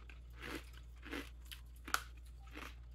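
Crisp crunching bites into a hard, shell-shaped Korean peanut snack, several sharp crunches spaced apart, close and fairly quiet with no talking.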